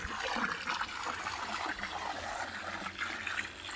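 Potassium permanganate solution being poured into a koi pond, a steady close splashing trickle of liquid running continuously into the water with no talk.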